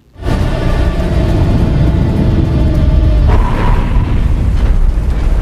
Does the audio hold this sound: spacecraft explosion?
yes